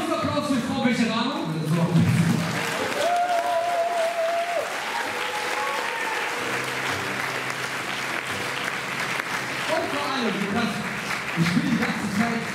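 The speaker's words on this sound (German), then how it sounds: "ein großer Applaus" An audience applauds loudly and continuously in a dense wash of clapping, with some crowd voices and a few tonal sounds mixed in.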